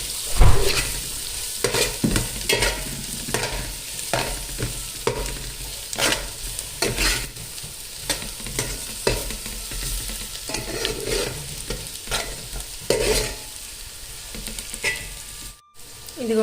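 Turmeric is stirred into mushroom pulao frying in a pan. A loud, continuous sizzle runs throughout, with regular spoon scrapes and stirring strokes up close and no voice.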